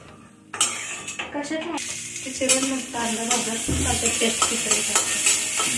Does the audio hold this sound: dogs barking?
no